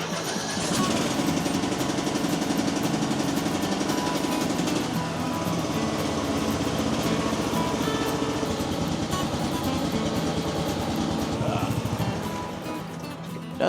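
A $200 Poulan Pro lawn mower engine runs at a steady, loud, close-up drone for most of the stretch, its rough mechanical rumble easing slightly just before the end.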